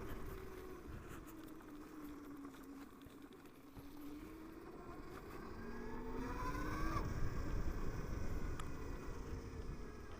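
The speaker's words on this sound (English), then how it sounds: "this bike is silent almost, apart from that little noise" Zero FXS electric motorcycle riding by with a faint motor whine that rises and falls in pitch, heard over low road and wind rumble that swells slightly toward the end.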